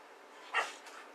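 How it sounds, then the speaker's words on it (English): A dog gives a single short, faint bark or yip in the background of a quiet room, with no talking. "If you hear dogs in the background, it's my dog."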